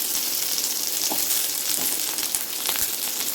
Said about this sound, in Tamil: வெங்காயம் தக்காளி பச்சை மிளகா பூண்டு எல்லாத்தையும் நல்லா நம்ம வதக்கிக்கலாம்